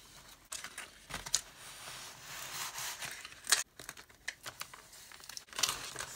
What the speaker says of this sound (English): we're just going to tape it up